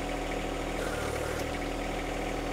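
Steady running of a tractor engine, fairly quiet but continuous, a low droning hum that holds even throughout with no one speaking.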